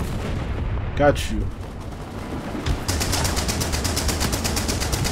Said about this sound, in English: this kind of looks like one of those Vickers machine guns